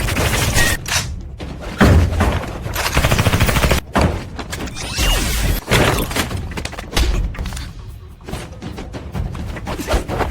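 Gunfire and heavy thuds in a film fight scene with mafia gunmen, a loud, dense stretch of shots, impacts and bangs running continuously with no clear gaps.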